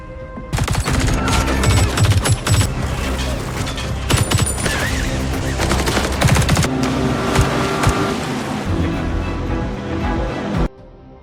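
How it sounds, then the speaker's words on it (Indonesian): Heavy gunfire in a film rattles nonstop in dense, rapid bursts, like a loud shootout with overlapping shots that cut off abruptly at the end. "Baku tembak sengit terjadi setelah musuh melepaskan tembakan."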